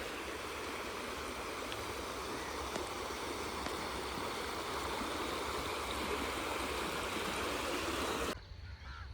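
The Sutlej river flows steadily near Sarian village in Punjab at dusk, a loud continuous rushing wash of water that cuts off abruptly near the end, with no talking.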